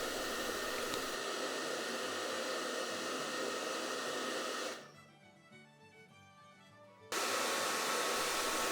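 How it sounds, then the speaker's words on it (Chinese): A hair dryer blows with a loud, steady rushing hiss, drops to a quieter setting for a couple of seconds, then returns to full roar. "这是一个吹风机。"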